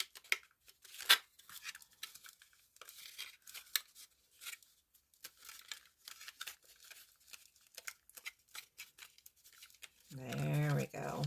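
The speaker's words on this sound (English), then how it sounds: "let's go ahead and bend this first." A thin aluminum sheet, as flimsy as foil, is bent by hand to form a bead baking rack, making faint crinkling, crackling and scraping noises over several seconds before a voice begins speaking.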